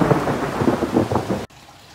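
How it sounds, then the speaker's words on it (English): A thunderstorm brings rain with a low rumble of thunder and a dense patter of falling water outdoors, loud and steady, then cuts off abruptly to near quiet. "now it's starting to rain, so we need to get inside"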